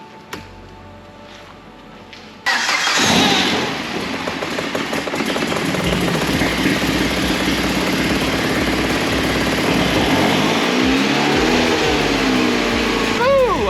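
A track-built Mini's engine, fitted with a lightweight flywheel, TTV clutch and Quaife differential, fires up after a quiet start and runs at a loud steady idle during a wheel test, with a slight rise in revs near the end and voices talking over it.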